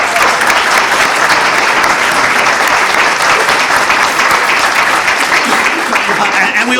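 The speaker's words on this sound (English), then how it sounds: "maybe a round of applause for the group that's come?" A lecture-hall audience applauds a visiting group of Polish law students, steady dense clapping filling the room at full volume throughout, with no voices rising above it.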